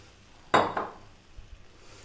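A spoon or whisk knocks once against a pan while milk is stirred into a cheese sauce, a single near clink followed by quieter faint scraping.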